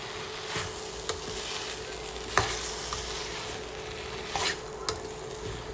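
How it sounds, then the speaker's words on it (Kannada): A spoon mixes a frying egg protein dish in a pan over continuous sizzling oil, with several sharp clinks of the utensil against the pan at irregular intervals. "ಎಲ್ಲ ಮಿಕ್ಸ್ ಮಾಡ್ಕೊಬೇಕು"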